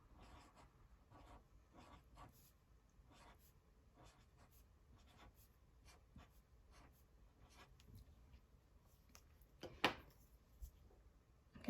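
A pen or marker writing words on paper, short scratchy strokes in quick bursts with brief pauses between, close and quiet, plus one sharper tap or knock near the end, no voices.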